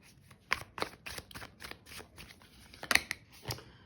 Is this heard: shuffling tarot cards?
yes